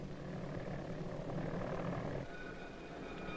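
A mail-carrying airplane flies past with a steady, loud engine drone that fills the whole stretch, a broad rumble with a faint tonal whine rising near the end.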